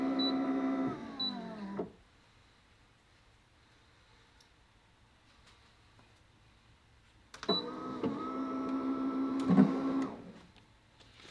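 HTVRont Autopress 2 heat press running a second press on heat transfer vinyl, DTF and screen print transfers: a mechanical whirring hum for about two seconds, quiet, then a longer motorized run with a faint high tone.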